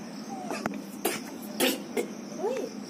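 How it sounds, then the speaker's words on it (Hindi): Several short, sharp coughs and throat-clearing sounds, spaced out over a few seconds at a doorstep with monkeys nearby, fairly faint against light background noise. "खांसी आ रही है।"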